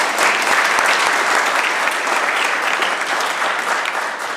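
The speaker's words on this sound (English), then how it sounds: "would the House please give her a huge round of applause" Sustained, loud applause fills the legislature chamber, dense clapping from many members continuing steadily throughout with no pauses.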